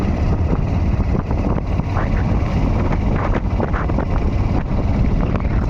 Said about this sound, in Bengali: আর প্রচুর হাওয়া দিচ্ছে আজকে